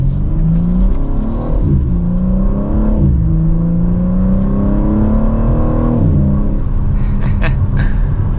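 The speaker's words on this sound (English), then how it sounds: "Hopefully you can hear how quickly this is downshifting by itself." A 2024 BMW M4 Competition Convertible downshifts rapidly on the move, its engine note climbing in quick rev-matched blips between steady, loud droning pulls, with wind and road rumble filling the cabin throughout.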